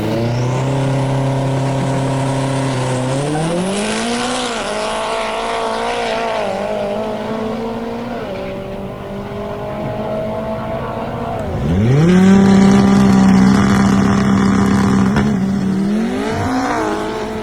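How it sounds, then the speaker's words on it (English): AWD Mazda RX7 race car on a drag strip, its engine revving and accelerating hard in rising sweeps, with a second loud, close pull late in the run and a brief tire squeal. "the RX7 at Crail flying up and down the strip doing 9-second passes"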